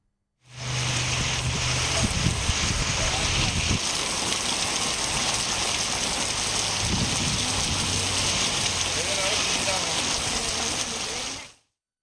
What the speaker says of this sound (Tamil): குளிர்ந்த காற்றுடன் மழை பெய்தது